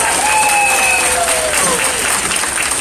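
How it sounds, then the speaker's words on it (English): Loud, steady applause from a crowd at a political activist meeting, continuous dense clapping throughout with faint whistle-like tones gliding above it. "If I could get a big round of applause for all of them"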